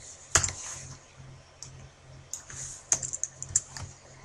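Someone types on a computer keyboard in short bursts of close, crisp key clicks, with a few sharper taps and brief pauses between keystrokes.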